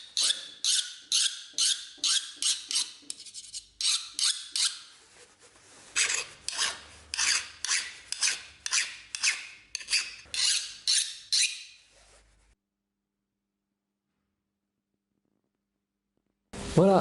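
A hand file rasps across knife steel after heat treatment, testing its hardness: about a dozen rhythmic, close scraping strokes in two bursts, then silence and a brief final scrape.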